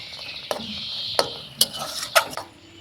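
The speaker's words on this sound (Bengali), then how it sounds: "তো আমি এইভাবে নাড়াচাড়া করে পাক দিয়ে নিচ্ছি, অনেকটা শুকিয়ে নেব" Chhana sandesh mixture being stirred and dried in a pan over heat: a low sizzle broken by four or five sharp spoon scrapes and clinks against the metal, close and clear, no voices.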